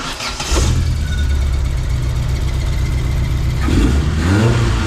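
A Vauxhall Nova 1.6 injection engine cranks briefly, catches and settles into a rough, loud idle, then gets a short blip of revs near the end, close up with no voices.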